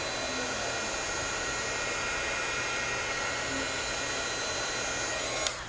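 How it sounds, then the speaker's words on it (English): A heat gun blowing steadily on mixed media craft products to make them puff up, giving a constant close, loud airy whoosh that holds unchanged throughout with no talking over it. "I can go back with the heat gun again and it will puff up even more"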